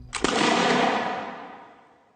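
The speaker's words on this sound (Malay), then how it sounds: "kedua-dua pihak berbalas tembakan sehingga mereka hampir kehabisan peluru" A single loud gunshot-like blast rings out with a long, echoing decay, a battle sound effect for the 1875 Battle of Bukit Putus in Negeri Sembilan. It is heard alone, with no speech.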